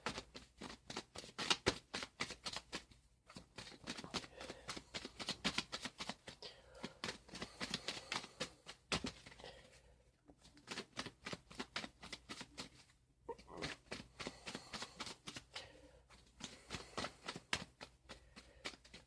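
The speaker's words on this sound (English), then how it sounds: "Immediately while I'm shuffling the cards, I'm getting the envisionment of be open to definitely some major changes here." Tarot cards being shuffled by hand in repeated riffling bursts of crisp papery flutter, close and clear, with brief pauses between rounds and no talking.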